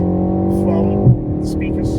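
Synthetic exhaust burble from the speakers of a BMW M135i fills a car interior as a steady low engine drone with faint crackles, heard alongside people talking in the cabin.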